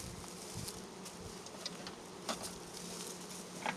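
Honey bees buzz steadily in a dense, droning swarm close by during a hive inspection, with a few individual insects whining louder as they pass near.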